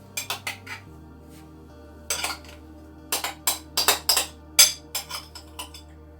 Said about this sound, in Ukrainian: І все гарненько перемішуємо.